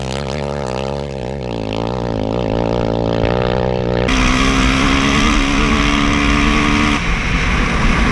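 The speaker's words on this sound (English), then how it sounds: "We come across these brand new KTMs, just superb machines. We're doing a bit of riding out here" New KTM motorcycles ride through the desert, their engines roaring loud and steady with rising and falling revs. Partway through the sound switches to a harsher, more constant wind-blasted engine drone, as if picked up by a mounted action camera.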